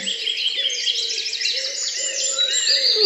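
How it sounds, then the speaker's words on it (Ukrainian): Dense, bright chorus of many birds chirping and twittering at once, loud and continuous, with a low hum beneath. "Та це ж пташки. А чому ж вони так голосно цвірінькають?"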